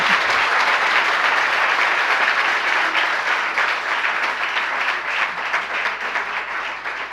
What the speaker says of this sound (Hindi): कम से कम ताली में तो अच्छी मेहनत कर लिया करो।